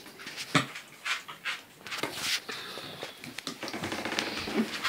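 Dog panting close by in a house, rapid rhythmic breaths with occasional whimpers and light pattering, continuous throughout.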